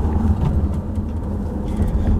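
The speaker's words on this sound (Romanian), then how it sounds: "Conducem cașcai prin oraș" A 2014 Nissan Qashqai driving through the city, heard from inside as a steady low engine hum and road rumble at moderate level, with no talk.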